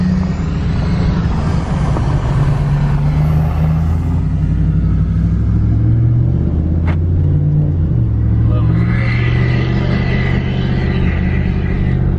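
A pickup truck engine, a Ram 1500 Hemi or a Duramax LML, roars loud and close in a sustained deep rumble as it revs and accelerates for a race, pitch rising and shifting.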